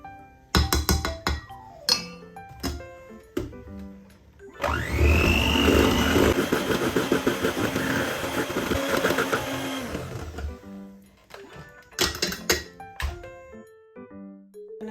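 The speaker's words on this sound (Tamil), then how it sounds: "ஸோ அதனால தான் தனித்தனியாக அடிச்சிட்டு பிறகு நான் இப்படி சேர்த்து அடிச்சுக்கொள்கிறேன்." An electric mixer beats brandy fruit cake batter in a bowl, whirring steadily for about six seconds in the middle, with clinks and knocks of utensils before and after.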